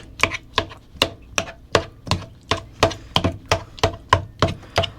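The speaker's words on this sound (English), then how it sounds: "Crab meat, add crab meat. Mix that up." Crab meat being mixed in a bowl, heard as a steady run of about fourteen close, sharp knocks at a regular quick pace, each one short and crisp.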